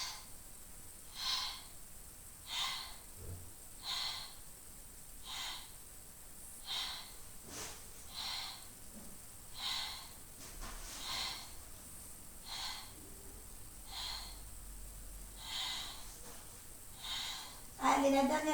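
Steady exhaling breaths during a cardio pilates stretch, a dozen rhythmic audible outbreaths at regular intervals, close and soft, with an instructor's voice speaking between them.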